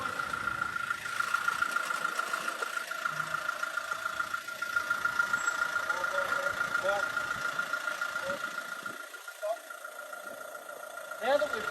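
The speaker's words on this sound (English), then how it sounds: "We're going to back the motorhome away from the ramps" A motorhome's engine idles and runs steadily as the vehicle backs slowly off leveling ramps, a continuous mid-low drone with faint rattles, with a person talking over it throughout.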